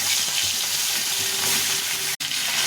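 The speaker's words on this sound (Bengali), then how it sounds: "মাছটা ভেজে নিই" Fish head sizzling in hot oil in a pan for a Bengali bottle gourd dish, a steady, close, bright crackle throughout with a brief dropout near the end.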